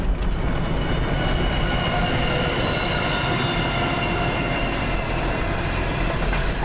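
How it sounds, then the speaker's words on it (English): A train rolls past on the Nullarbor railway as a loud, continuous rumble with steady roar and faint wheel clatter, close by and unbroken throughout. "Our first choo-choo of the day."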